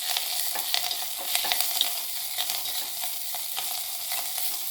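Dried red chillies and green chillies sauté in oil in a pan for horse gram (kollu) rasam: a continuous close sizzle punctuated by repeated spoon-stirring scrapes and clicks, with no voices.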